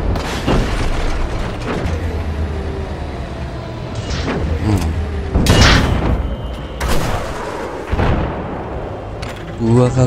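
Tank battle gunfire and explosions in Battlefield 4, with several heavy booming blasts and shots bursting out over a continuous rumbling battlefield din while someone talks throughout.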